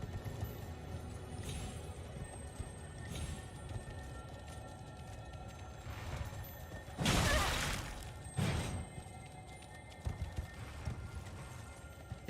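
A horse galloping in the video game Elden Ring gives off a rhythmic patter of hoofbeats, overlaid by a loud crash-like impact burst midway and a few sharper thuds later, with no talking.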